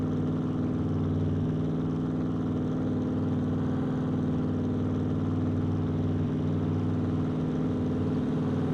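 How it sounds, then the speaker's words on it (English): A car engine in the video game SCUM drones steadily nearby, a continuous low mid-pitched hum holding even for several seconds with no talk. "I hear a car."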